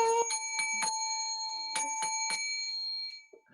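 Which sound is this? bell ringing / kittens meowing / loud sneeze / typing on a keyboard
bell ringing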